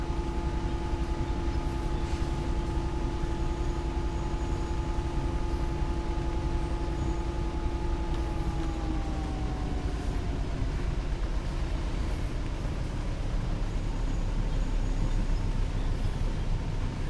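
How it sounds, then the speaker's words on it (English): A DRS Class 66 diesel freight locomotive in a train simulator game coasts with the throttle shut: a steady low engine drone that dips in pitch partway through and settles into a quiet rolling rumble. "Shut off the throttle, just let the train coast."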